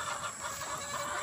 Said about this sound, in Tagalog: Nakapasok na tayo sa ating mga alagang manok.